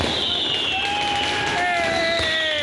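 New Year fireworks in Italy crackle and pop amid a noisy outdoor crowd, with whistling rising tones and dense bursting noise filling the scene loudly throughout.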